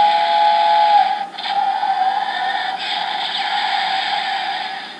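Power Rangers Mystic Force Solar Streak Megazord toy giving off a continuous electronic whistling, hissing sound effect, fairly loud and close, with no talk over it.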